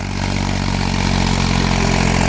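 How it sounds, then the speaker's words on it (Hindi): An Eicher 333 tractor pulls a 7-foot KSD rotavator in low gear through a field, its diesel engine a steady, loud, unbroken drone with a deep rumble throughout. "देखो 1619 की गरारी पे आइसर का 333 है"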